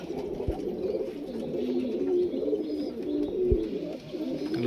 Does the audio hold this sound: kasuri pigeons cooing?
yes